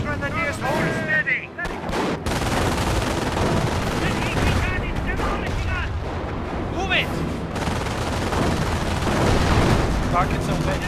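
Dense bursts of gunfire and booming explosions from a battle in the video game Company of Heroes Online, rapid automatic fire mixed with heavy blasts, with shouted voices over the din.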